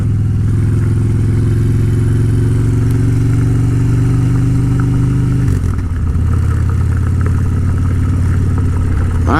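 2013 Harley-Davidson Dyna Fat Bob with the 103 engine riding up a treacherous gravel road: a close, steady low engine drone that dips briefly and then picks back up.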